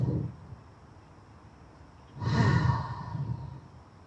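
A single long exhale during an outdoor yoga flow on a grassy field, a soft breathy sigh rising midway through an otherwise quiet stretch, close to the microphone.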